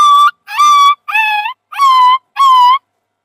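A person imitates a dog whimpering in pain after being hit, five short rising-falling whiny yelps in quick succession, loud and close with no other sound.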